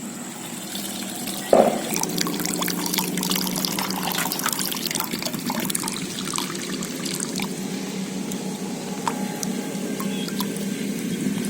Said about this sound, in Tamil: இப்போ வடித்த அரிசியை அப்படியே கொட்டிடலாம்.